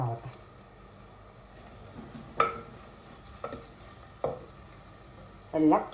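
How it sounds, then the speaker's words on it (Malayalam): Onions sauté in a pan over a steady, soft sizzle, broken by several sharp scraping stir strokes spaced about a second apart. "അങ്ങനെ നമ്മുടെ ഉള്ളിയൊക്കെ വഴണ്ടി വന്നു"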